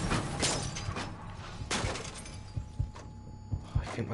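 Car crash in the Mafia 3 video game, with several sharp bursts of shattering glass and heavy thuds scattered through a rumbling, noisy background.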